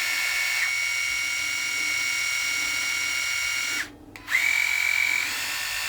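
A Remington Balder Pro electric head shaver runs with a steady high whine and buzz, briefly cutting out near the end before starting up again, with no talking.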